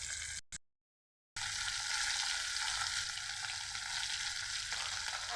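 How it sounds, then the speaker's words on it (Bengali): Surma fish frying in oil in a pan, a bright steady sizzle heard close up after a brief cut to silence near the start. "মাছগুলো আমি ভাজতে দিয়ে দিয়েছি।"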